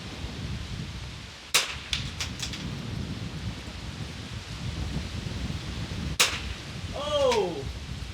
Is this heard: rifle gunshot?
yes